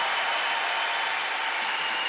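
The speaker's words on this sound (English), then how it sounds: "The crowd goes wild." A crowd at a skateboarding contest cheering and applauding, a dense, steady wash of clapping and roaring that holds at even loudness from start to finish.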